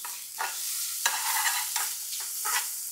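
Ginger, garlic and finely chopped onions fry in chili oil over high heat, giving a steady loud sizzle broken by repeated scraping stirs of a spatula.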